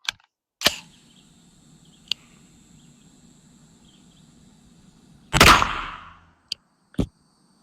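A 9mm AR pistol firing a Critical Defense 115 grain round into ballistic gel outdoors: one loud close blast with a brief rumbling tail, surrounded by a few sharp clicks and handling knocks in otherwise quiet air.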